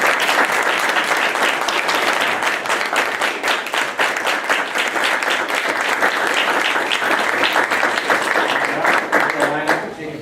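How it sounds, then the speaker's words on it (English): Dense, loud applause for the math team at a Board of Education meeting runs steadily for about ten seconds, a continuous wash of many hands clapping close by. "let's give them a round of applause"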